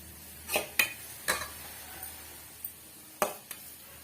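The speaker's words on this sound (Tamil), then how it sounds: "கேரட் வந்து நல்லா வந்து பச்சை வாடை போற வரைக்கும் வதக்கி விட்டுக்குங்க" Carrots sautéing in a pan on medium flame, stirred with a spatula: a handful of sharp scrapes and taps spaced apart over a faint quiet sizzle, close and alone.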